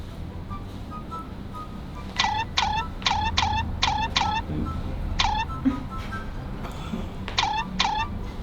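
A voice imitates a cat, giving a run of about a dozen high, repeated meows in quick bursts of two or three, fairly close and clear over a low background hum.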